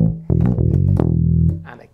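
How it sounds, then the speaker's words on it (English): Bass guitar plays the closing bar of a disco riff, a quick run of plucked notes that ends on a ringing low note and decays within two seconds. "last bar sounds like this,"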